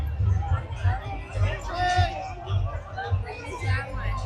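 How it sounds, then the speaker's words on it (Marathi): Crowd chatter and mingled voices on a busy Goa beach in summer, a continuous murmur of many people close by with a steady low rumble beneath. "लय गर्दी आहे बीचवर"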